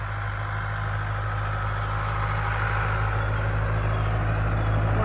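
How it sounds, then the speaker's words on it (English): A farm tractor pulling haymaking equipment along a rural road beside a field, its engine a loud, steady, low diesel drone that holds throughout as it passes close by. "I hear a tractor coming."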